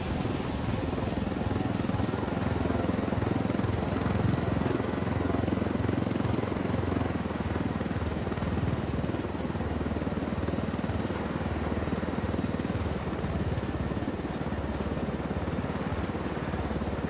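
In the video game Ghost Recon Wildlands, a helicopter flies with a constant, loud rotor and engine drone that holds steady for about seventeen seconds with no talking.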